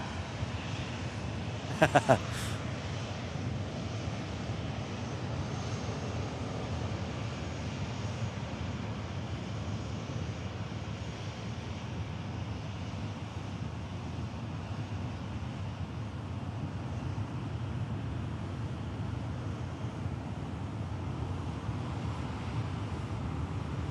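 A steady broadband roar of an aircraft at Manchester Airport, constant and moderately loud, blended with wind rumble, with a couple of brief clicks near the start.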